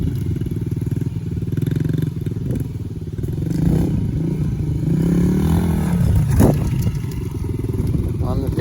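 A 2016 Yamaha TTR110 pit bike engine runs while being ridden, a close, steady buzzing drone with small rises in revs, and voices briefly audible over it.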